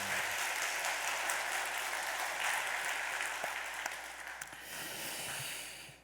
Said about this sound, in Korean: 힘차게 박수하겠습니다